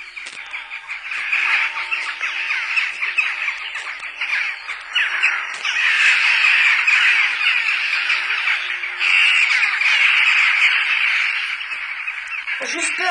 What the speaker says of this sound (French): Ce sont des choucas. Ils nichent dans le clocher.